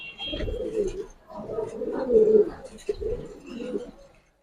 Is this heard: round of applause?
no